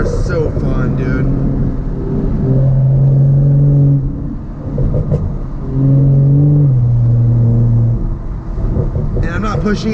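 A car pulls hard along a canyon road, its engine note climbing in two distinct acceleration pulls heard from inside the cabin, with a person talking over the drive.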